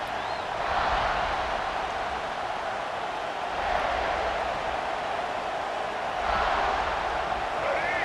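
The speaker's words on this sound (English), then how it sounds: "This crowd, full throat, spreading the eardrums and letting them know it's going to be a long day" A huge stadium crowd roars continuously at a Florida versus South Carolina college football game, the dense cheering swelling in waves and filling the air.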